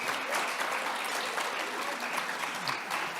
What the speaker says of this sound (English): So you all are on the, round of applause.